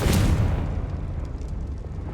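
A Confringo spell blast in Hogwarts Legacy: one loud, booming explosion at the start that decays into a rumbling low roar and crackle lasting a couple of seconds.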